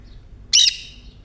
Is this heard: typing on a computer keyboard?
no